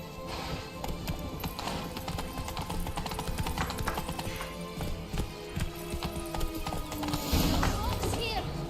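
Horse hooves clip-clopping in The Witcher 3 video game, a steady close trot running throughout under frequent spoken dialogue, with a brief whinny near the end.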